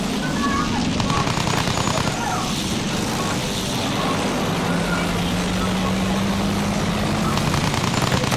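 An aircraft drones overhead in Battlefield 1, a steady engine hum layered under constant battlefield rumble and noise, with voices calling out over it.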